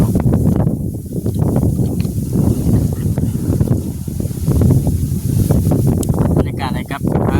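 Strong wind blowing outdoors, a steady broad roar buffeting the microphone throughout, loud and unbroken with faint rustling and knocks underneath.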